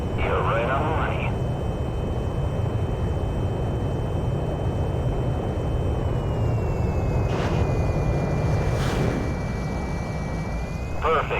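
Jet aircraft coming in to land on a carrier in the Ace Combat 6 video game, a steady loud engine roar with a sustained whine running throughout, under voice radio chatter.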